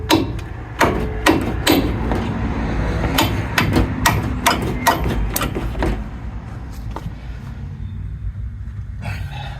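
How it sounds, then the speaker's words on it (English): A big hammer pounds on parts of an 88-98 Chevy/GMC truck during an AWD conversion, loud metallic blows landing in irregular bursts and clusters, some fast and some spaced out, fading to lighter taps near the end. "Big enough hammer for the job."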